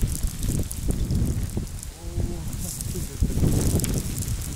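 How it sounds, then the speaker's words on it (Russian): Gusty wind rushes and rustles through trees along a forest trail in Crimea, rising and falling, with a voice speaking briefly partway through. "О, ветер."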